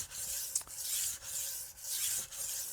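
A Wusthof Classic chef's knife drawn across a drying whetstone, giving rhythmic rasping strokes about every half second, close and fairly loud with brief pauses between passes, no talking.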